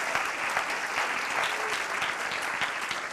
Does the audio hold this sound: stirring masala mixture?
no